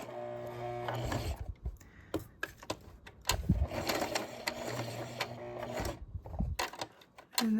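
A sewing machine runs in short bursts of rapid stitching as it sews down over rope cords, pausing between runs with soft handling noises, close and moderately loud.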